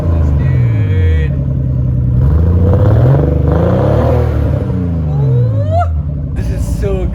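A Nissan R32 Skyline revving through a new exhaust, loud and close, its deep engine note rising and falling across several throttle blips while excited voices talk over it.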